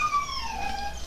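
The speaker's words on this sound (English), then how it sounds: "Well, Ziggy whines a lot" A pet dog whines in a thin, high-pitched, wavering tone that slides gradually downward, one continuous close whimper lasting about a second with no speech.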